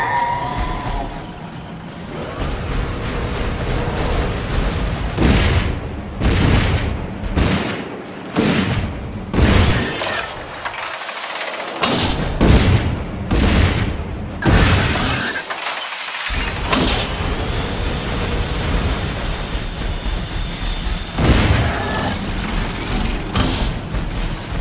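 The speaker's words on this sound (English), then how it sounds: "Shotgun is so much more fun up close." Shotgun blasts and heavy weapon fire in the mech game Iron Brigade, a string of loud, close booms and bursts over a dense mechanical din, with short gaps of quieter rumble between volleys.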